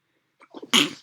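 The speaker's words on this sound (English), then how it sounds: "I just sneezed" A single sharp sneeze bursts out after a brief quiet intake of breath, loud and close.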